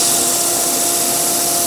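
A dust extraction vacuum drawing air through a power sanding disc while shaping a wooden crochet hook or knitting needle, a loud steady broadband roar with no pauses.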